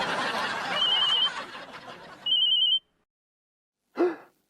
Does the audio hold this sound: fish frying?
no